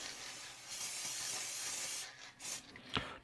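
Corrosion-prevention spray hissing onto the shaft of a spool valve on a Schaublin tool changer, a steady close aerosol hiss in short bursts with brief pauses, no talking.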